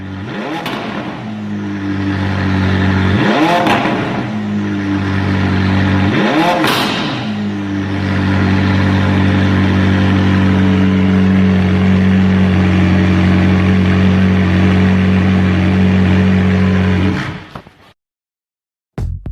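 McLaren 675LT supercar with a compact 3.8-litre V8, loud and close, blipped in three sharp revs before settling into a sustained high-rpm drone that cuts off abruptly near the end.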